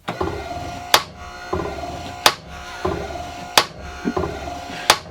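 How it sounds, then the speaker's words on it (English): A WD-40 hammer machine cycles, delivering sharp metallic hammer strikes roughly every 1.3 seconds, each followed by a brief mechanical whir and hiss of the solenoid-driven sprayers, loud and close. "the hammer does one hit"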